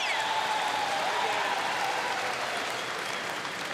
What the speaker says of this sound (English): Big cheer from the big Kiwi contingent that are here at the Velodrome at the Hisense Arena